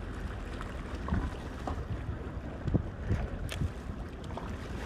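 Steady wind gusting outdoors by the water in Malta during a light-game fishing outing, a continuous low rumbling buffet on the microphone with a few brief louder bursts and no voices.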